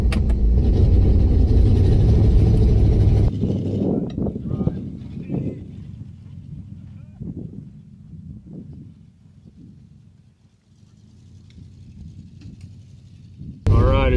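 An old AMC Ambassador engine roars loudly for about three seconds, then falls to a lower, uneven rumble with scattered knocks. A loud burst returns at the very end.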